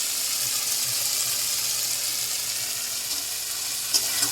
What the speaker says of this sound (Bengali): আলু দিয়ে মশলাটা ভালো করে কষিয়ে নিয়েছি